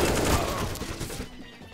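Gunfire in a first-person shooter game: a dense, loud volley of overlapping shots that rattles continuously for under two seconds, then thins out abruptly at the end.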